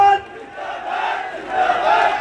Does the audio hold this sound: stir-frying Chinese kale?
no